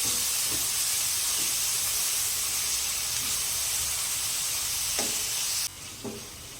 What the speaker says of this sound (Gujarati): મીડિયમ સાઇઝની એકદમ ઝીણી સમારીને લઈ લીધી છે તેને સાતડી લઈશું